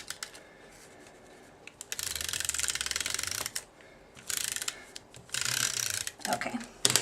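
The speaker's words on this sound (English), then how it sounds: "we're just going to take our snail and run some snail along the edges" An adhesive tape runner is rolled along paper edges for a scrapbooking page, giving several short clicky, ratcheting bursts of a second or so with quiet gaps between, close up and fairly soft, with no talk.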